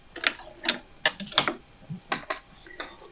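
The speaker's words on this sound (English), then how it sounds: "I'm going to keep sewing these down" Sewing machine stitching through soft and stable foam stabilizer and fabric squares for a travel thread catcher: bursts of mechanical clatter, about seven short runs of needle action at an even rhythm, close and moderately loud, with no talking.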